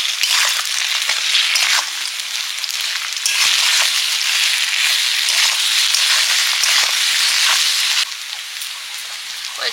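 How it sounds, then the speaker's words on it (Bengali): Poppy seed paste and slit green chilies hit hot oil with frying potatoes, giving a loud, steady, dense sizzle that runs throughout with a brief dip midway and a slight drop near the end. "এবার আমি পোস্ত আর কাঁচা লঙ্কা দিয়ে দেবো।"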